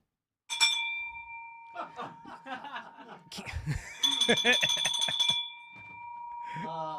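A sales bell rings to celebrate a closed $65,000 deal, a bright sustained ring rising out of silence and carrying on through laughter and talk, then swelling louder again partway through.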